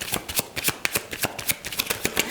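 Tarot cards shuffled by hand in a quick, crisp run of riffling flicks and soft slaps, close and moderately loud with no voice over it.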